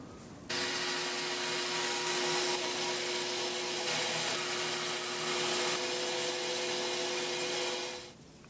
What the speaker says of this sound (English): The scallop I'll do on the stationary belt sander.